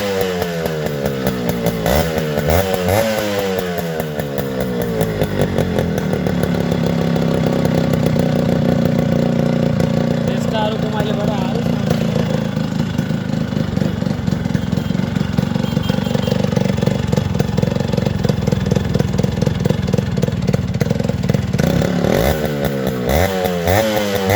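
A Yamaha RX100 two-stroke motorcycle engine runs close up, revving up and down at the start and end with a steady buzzing idle in between, loud and continuous with no talking.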